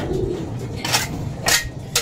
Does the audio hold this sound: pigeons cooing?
yes